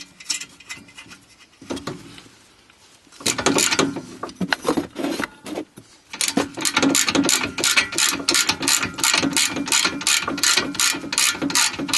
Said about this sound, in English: Now you can get the four nuts from the wheel hub assembly back on and get them tightened.